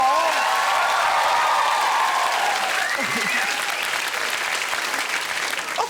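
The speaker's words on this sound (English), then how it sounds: "and you all applauded" A studio audience on a TV comedy show applauds steadily for several seconds, a dense, loud wash of clapping with scattered voices and a few whoops mixed in.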